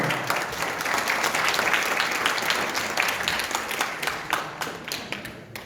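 An audience at a DLG meeting in Warsaw applauds an assistant with loud, dense clapping that builds, holds steady, then thins into scattered separate claps near the end.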